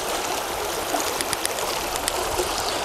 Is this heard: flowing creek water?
yes